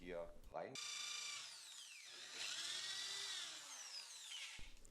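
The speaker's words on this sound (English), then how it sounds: "Finally, the holes are countersinked and the screws can be placed." A power drill with a countersink bit bores screw holes in a wooden batten door. It whines steadily and close for about four seconds, the pitch sliding and wavering as the bit cuts, with a short start and stop at each end.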